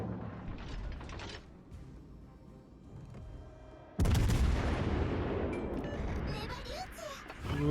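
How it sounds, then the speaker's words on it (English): Warship gunfire in the World of Warships Legends naval battle game: a sudden heavy boom of battery fire erupts midway, followed by sustained rumbling and shell noise, with someone talking throughout. "We'll keep lobbing bullets and keep that zone out of the enemy hands."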